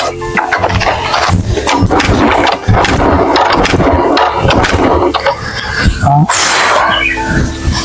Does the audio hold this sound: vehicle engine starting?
yes